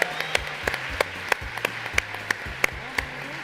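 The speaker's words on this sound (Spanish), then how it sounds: "Un aplauso para ¡Vamos! Bicho Raro" An audience at a video game awards event claps in a steady burst of applause, with crisp individual hand claps standing out over the crowd.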